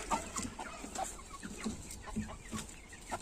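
Zielononóżka hens clucking softly in their outdoor run, several short scattered calls overlapping at moderate distance, with faint ambient rustle and no talking.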